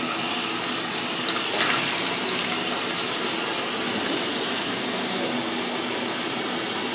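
Running tap water pours steadily over a barber's shaving brush and lather bowl as they are rinsed clean, a continuous close splashing wash with no talk.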